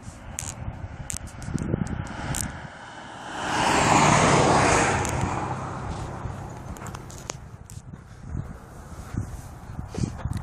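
A car approaches and passes close by on a road in Alberta with a rising and fading whoosh, amid outdoor background noise and scattered footstep-like clatter.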